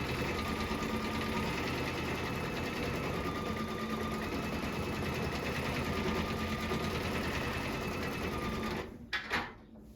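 A sewing machine backstitches a seam in one long, steady, even run, then stops abruptly, leaving a few handling clicks.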